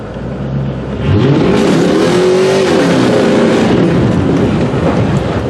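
A car's 5.7-litre V8 roars close and loud, climbing into a hard rev that swells and then eases back, with no talking over it.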